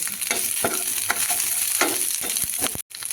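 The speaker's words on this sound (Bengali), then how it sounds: "ডাঁটাগুলো কিন্তু আমি জাস্ট একবার এক মিনিট বা দু মিনিট এভাবে হাই ফ্লেমে নেড়ে নেব" Drumsticks (sajne data) stir-fried over a high flame, a steady loud sizzle of hot oil broken by repeated scraping strokes of a spatula in the pan, with a brief dropout near the end.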